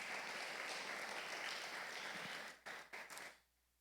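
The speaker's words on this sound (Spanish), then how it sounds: "¿Le puede dar un fuerte aplauso al Señor?" A church congregation applauds in a thick, steady wash of clapping that breaks up into a few last bursts and then dies away into quiet.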